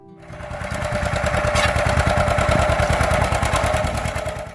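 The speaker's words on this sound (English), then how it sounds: "The John Deere B, talking to the world with that steady rhythm. Pop, pop, pop, across the field." A John Deere B tractor engine runs with a steady, rapid pop-pop rhythm, swelling in loudness and then easing slightly, alone without voices.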